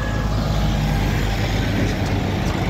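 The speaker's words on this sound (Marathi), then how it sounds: "एकामागं एक चाललेले सर्व ट्रॅक्टर" Heavy tractor engines rumble continuously nearby as a line of tractors pulling trolleys drives past, a dense low droning with no breaks.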